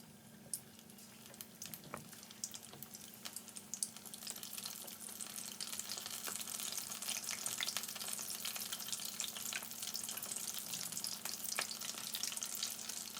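Battered fish pakora pieces deep frying in hot oil in a pan, a steady close crackling sizzle that builds slightly and runs throughout with small pops and no talking.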